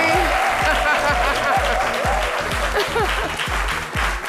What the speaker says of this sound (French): Tonnerre d'applaudissements pour la recevoir sur le plateau de samedi.